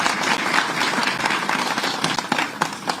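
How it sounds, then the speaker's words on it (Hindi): A crowd at a government office inauguration in Ujjain breaks into dense, steady applause, many hands clapping at once in a continuous roar. "जोरदार ताली में करनी चाहिए"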